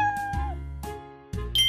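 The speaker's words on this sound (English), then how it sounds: "That's a cat." A cat meows several times in a row, each call a clear rising-and-falling tone set over a soft backing melody, close and moderately loud.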